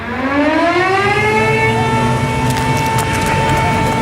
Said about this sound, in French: Il est 14 heures quand retentissent les sirènes d'alarme en Israël.